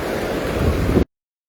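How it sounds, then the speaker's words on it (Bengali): Waves break at a river mouth at dusk: a short, loud rush of surf and wind noise that cuts off abruptly. "ব্যাপক ঢেউ দিচ্ছে"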